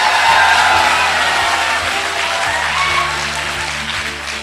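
An indoor audience at a motivational talk claps together, a dense, loud wave of applause that slowly fades, with no one speaking.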